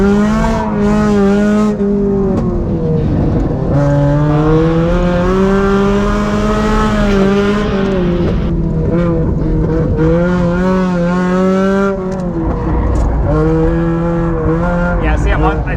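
A tuned Mazda Miata NC race car drives hard on a track, its engine droning and rising and falling through the corners with tire squeal, loud and close throughout.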